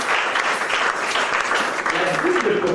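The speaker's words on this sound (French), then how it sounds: "Acclamez Dieu fort" Church congregation applauding and cheering for God during a French-language sermon, a steady, loud wash of clapping with mixed voices and a few sustained tones underneath throughout.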